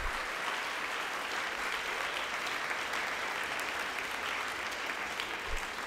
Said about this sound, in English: Let's give Dr. Counts another round of applause.